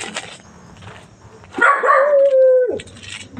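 A dog barks and then lets out a drawn-out howling whine, loud and close, with quieter background noise before and after.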